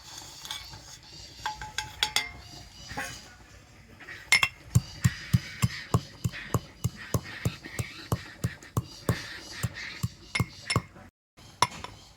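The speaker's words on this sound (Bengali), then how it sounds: "হামনদিস্তার মধ্যে আমি একটু গুঁড়ো করে নেব" Fried spices being crushed in a small mortar and pestle, with a steady series of sharp pounding clinks close by, quickening into a regular rhythm before a brief pause near the end.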